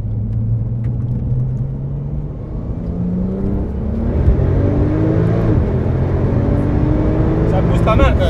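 Porsche 911 Turbo SpeedArt 650 EVO accelerating hard on the road, a loud, continuous engine roar climbing steadily in pitch through the gears as heard from inside the car, with someone talking over it.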